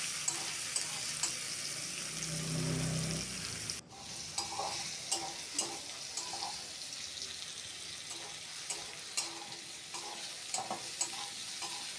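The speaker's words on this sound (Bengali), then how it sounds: "এরপর আলুর সঙ্গে পেঁয়াজটাকে একটু ভালো করে নেড়ে চেড়ে একটু সামান্য কষিয়ে নেব।" Potatoes and onion stir-fried in a pan give a steady sizzle, with repeated scraping and clinking stirs of the spatula, plus a brief low rumble early on before the stirring resumes, no voices.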